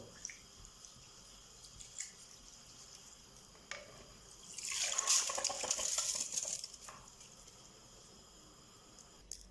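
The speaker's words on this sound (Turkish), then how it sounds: "Ve pirincimizi bol su ile yıkayalım." Rice being washed by hand in a bowl with plenty of water, faint at first with small drips and clinks, then a louder swishing burst of water in the middle before quieting again.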